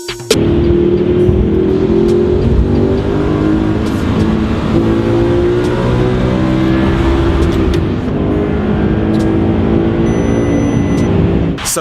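An Audi R8 V10 accelerates hard in a drag race, a loud sustained engine roar climbing steadily through the gears at close range with no talk.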